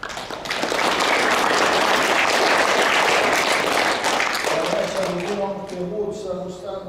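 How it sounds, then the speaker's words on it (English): Applause from the crowd at a junior rugby club prize giving, a broad steady clatter of many hands lasting several seconds, then thinning out as a voice begins speaking near the end. "just give him a round of applause"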